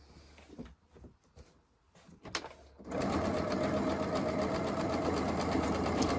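A sewing machine stitches a double flange on a Christmas placemat, starting abruptly after a few seconds of quiet handling and then running in a steady, fast, close whir to the end.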